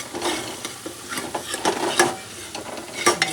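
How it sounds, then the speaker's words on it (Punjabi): Masala roasting in a pan at home, a steady close sizzle with scraping stir strokes against the metal, alone without talk. "ਮਸਾਲਾ ਭੁੰਨ ਰਿਹਾ"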